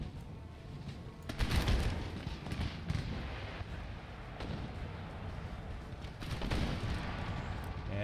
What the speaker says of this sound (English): musket fire through the opening.